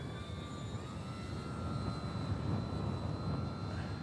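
An FMS 1700mm PA-18 Super Cub RC model airplane flying in strong wind: a continuous buzzing motor whine with steady high tones that waver slightly in pitch, over heavy low wind rumble, no talking.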